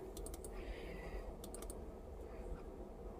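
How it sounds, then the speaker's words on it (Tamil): Quick bursts of computer keyboard typing, with clusters of light clicks over a constant low background hum, faint and close. "நோட் பேட் ஆஃப் பண்ணி நான் உங்களுக்கு டைப் பண்ணி காட்டிடுறேன்"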